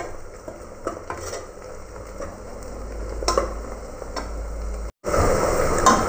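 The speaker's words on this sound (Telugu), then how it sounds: "ఇవైతే ఫ్రై అవుతున్నాయి." Ingredients for a country chicken curry frying in a pan, a continuous sizzle with intermittent spoon scrapes and clinks against the metal, close by, with a brief cut near the end and no voices.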